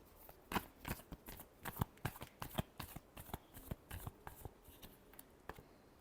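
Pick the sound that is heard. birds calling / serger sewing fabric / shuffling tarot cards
shuffling tarot cards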